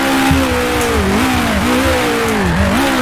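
A 1966 Formula One race car in the Grand Prix Legends racing game revs loudly through the gears at the Dutch Grand Prix, its engine pitch rising and dipping on each shift.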